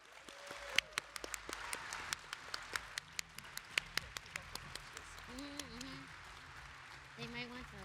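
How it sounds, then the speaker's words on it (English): Closing round of applause for a Python Software Foundation update talk at a conference: scattered, fairly quiet claps spread through the room with sharper individual hand claps standing out and a few murmuring voices underneath. "So if we can give one more final round of applause."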